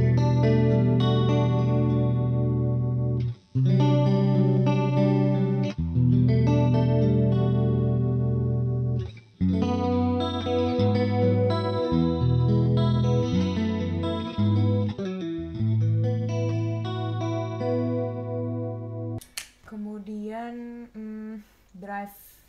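An electric guitar plays sustained chords and melodic lines through a compact mini pedalboard set to chorus and reverb, giving a shimmering, wide, wet tone with a drive pedal available; loud and continuous, the passage ends with a short bright riff.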